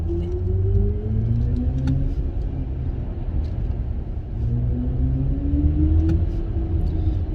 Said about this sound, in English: this is definitely an electric car sound